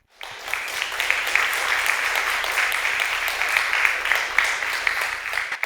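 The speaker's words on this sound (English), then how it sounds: "They deserve another round of applause, don't they?" An audience claps for the moderators of a leadership ethics panel on fusion voting, a steady round of applause of dense, crisp hand claps that starts abruptly and holds at an even level throughout.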